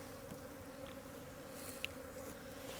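Honey bees in a winter hive make a faint, steady, low buzzing hum that stays even throughout, with a few soft clicks and rustles.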